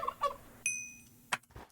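A turkey from the Minecraft Mo' Creatures mod gobbles in short chirpy video-game bursts, several quick clucks and a sustained tone, close and clear with no talk over it.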